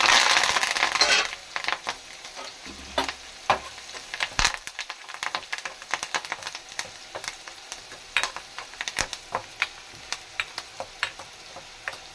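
Cumin, dried red chillies and curry leaves crackle and pop in hot oil, a close tempering sizzle with a sharp initial burst followed by scattered, irregular crackles and spatters that gradually thin out.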